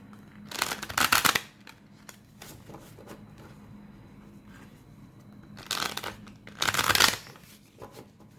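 Tarot cards being shuffled by hand, two separate bouts of quick riffling, each about a second long, close and fairly loud, with quiet pauses in between and no talk.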